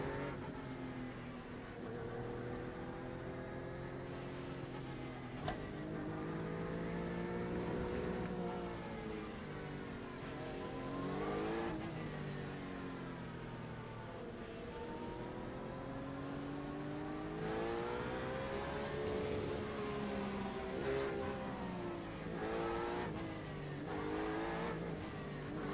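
Race cars in a community multiclass race in a video game, engines droning and revving through rising and falling gear shifts, several cars overlapping at steady volume, with one sharp click partway through.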